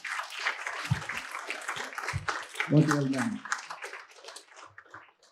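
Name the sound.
audience applause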